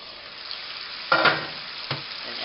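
Bacon and mushrooms hit a hot frying pan with a sudden burst of sizzling, then a second brief crackle as they are stirred, over a low steady hiss.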